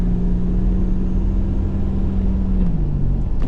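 A 1987 Buick Grand National with a big turbo engine gives a loud, steady low drone from inside the car, with a slight change in pitch near the end as it pulls ahead.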